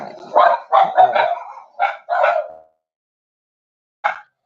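A dog barks several times in quick succession, then pauses in silence before one last bark; close and fairly loud.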